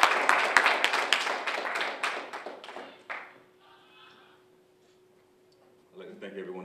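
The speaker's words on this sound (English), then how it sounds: "give a round of applause for the chief" An audience at an Indigenous conference applauds the chief, a burst of close, crisp clapping that tapers off after about three seconds, then quiet with a faint tone before a voice begins speaking.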